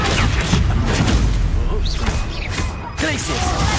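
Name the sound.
Confringo spell blast in Hogwarts Legacy video game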